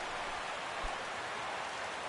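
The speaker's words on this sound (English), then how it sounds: "Rain falling here at Dodger Stadium" Rain falls steadily on an open baseball stadium, Dodger Stadium in Los Angeles, as a constant even hiss with no distinct drops and no voices.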